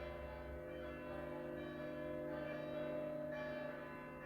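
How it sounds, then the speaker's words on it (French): Church bells ring from a church just across the street from a home terrace, a steady, sustained peal of overlapping tones that carries on throughout with no voices. "il y a les cloches qui sonnent, j'espère que ça vous dérangera pas trop"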